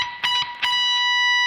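Electric guitar picks triplets with upstrokes and bent strings from a song: a few quick plucked notes, then one bright note ringing out and sustaining, played alone.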